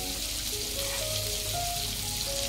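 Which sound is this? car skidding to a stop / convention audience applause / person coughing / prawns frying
prawns frying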